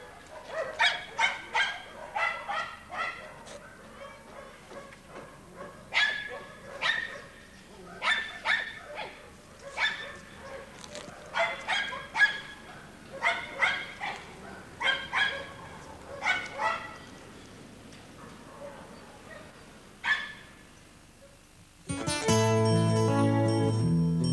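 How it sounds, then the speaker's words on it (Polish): A dog barks repeatedly in irregular bursts of sharp barks, close and loud. A short musical tune follows at the end. "Ładny piesek."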